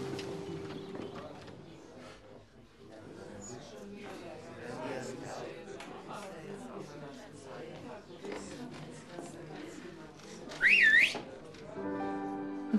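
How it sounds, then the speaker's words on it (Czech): A parrot gives a short, sharp whistle that sweeps up and down near the end, cutting through background music and people talking in Czech. "ty jsi na mě pískal? Co? Jistě, že ne. To ten papoušek."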